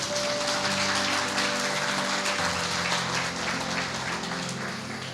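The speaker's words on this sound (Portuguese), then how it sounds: "Aplauda bem forte a ele." A church congregation applauds loudly, a continuous rain-like patter of many hands that holds steady for several seconds, with a sustained musical tone beneath it.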